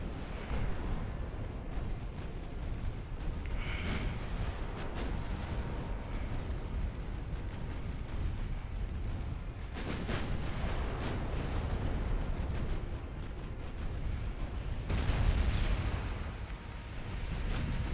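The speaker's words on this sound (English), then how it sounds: "Now that battleship is taking a lot of fire." Naval artillery fire on a battleship in the game Ultimate Admiral Dreadnoughts: a continuous low rumble of distant guns and explosions, with heavier booms breaking through now and then, and no speech.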